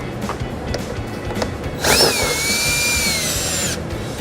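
A cordless power tool fitted with an 8mm socket spins out screws on a 2013 Ford Escape, starting after a few faint clicks with a loud, close whine that rises in pitch, holds for nearly two seconds, then cuts off.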